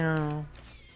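A human voice imitates a cat's meow in one drawn-out, falling call over a pinball game.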